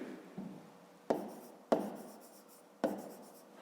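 Pen strokes writing numbers on paper during a fifth-grade maths exercise, several quick scratchy marks with short broadband bursts at irregular intervals, close and fairly quiet, with no talking.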